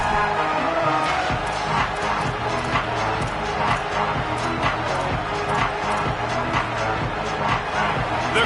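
Stadium crowd cheering at an American football game as the defense tries to make a stop in the red zone, a dense, sustained roar with rhythmic stomping or clapping beneath it, loud and continuous.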